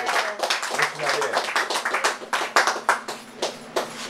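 Applause at a senior citizens home as a caretaker is honoured, a small group clapping in scattered, uneven claps at moderate volume, with a voice briefly audible beneath the clapping.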